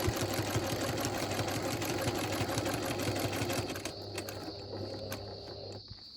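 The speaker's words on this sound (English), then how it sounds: "So try to stitch pretty much straight away as you're coming off that point." A sewing machine stitching a quilt with a ruler runs in a steady, fast mechanical whir for several seconds, then slows and quiets near the end, close and alone without talk.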